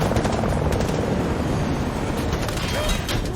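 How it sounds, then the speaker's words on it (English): A helicopter backs an armed attack in an action movie scene, its steady pulsing rotor thump loud and close throughout, mixed with dense rumbling battle noise. "As Julia approaches the border, Rash's forces strike, supported by a helicopter."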